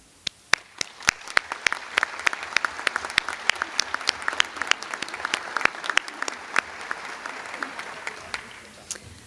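An audience applauds new nurses at a nursing pinning ceremony, with distinct sharp individual claps standing out over a softer murmur of clapping that swells mid-way and then tapers off.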